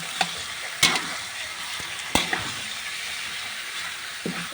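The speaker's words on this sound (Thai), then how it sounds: "เอาผัดกระดูกกับพริกนะคะ" Catfish bones stir-fried with chili in a hot pan give a steady low sizzle, with a few sharp scraping stirs of a utensil, close and fairly quiet with no talk.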